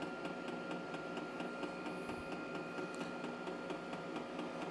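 A Hcalory portable diesel heater fires up, a steady mechanical whir with a rapid regular ticking pulse, faint and continuous throughout.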